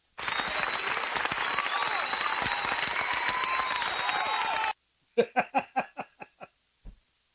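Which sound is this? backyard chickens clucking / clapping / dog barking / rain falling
clapping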